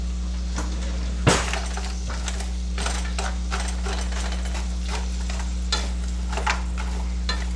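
Gnocchi fry in a pan, with a steady sizzle and a low hum underneath, and a spoon scrapes and clinks against the pan in irregular stirring strokes, one sharp knock early on.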